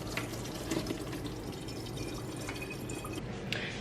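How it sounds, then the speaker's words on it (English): Liquid pours into a kitchen strainer while a tater tot casserole is being made, giving a steady wet trickle with dripping and splashes at close range. "So I'm just pouring this in the strainer."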